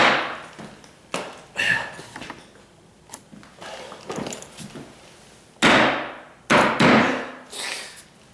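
A hammer strikes oak floor planks in irregular bursts, a few sharp knocks and several heavier blows, close by and loud in a quiet condo room.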